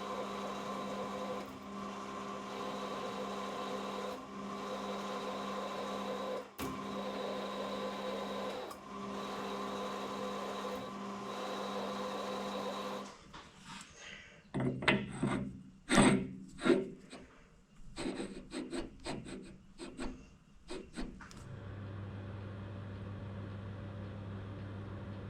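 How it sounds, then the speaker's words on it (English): A machine hums steadily while a thread is cut on a pipe centre part with a threading insert, then it gives way to irregular scraping and grinding bursts and a lower hum at the end. "I think I'm pretty right to cut this thread"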